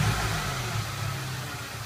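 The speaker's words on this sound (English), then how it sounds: "So let's get the engine a start and have a look." A car engine runs steadily close by during an injector check, a low even drone with a slight revving edge, heard alone without talk.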